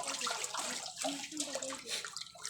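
Live freshly delivered catfish thrash in a basin of water, giving a continuous busy splashing and sloshing that runs through the whole moment.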